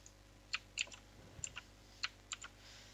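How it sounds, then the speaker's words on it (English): Keys on a computer keyboard are pressed in a few quiet, irregular clicks and taps spread over a few seconds, close and faint, with no one talking. "Just press K on the keyboard and you will move keyframes."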